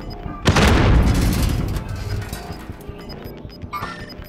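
A frag grenade explodes in a battle royale shooter game, a loud boom with a rumbling tail that slowly fades, followed by faint clinks and small noises.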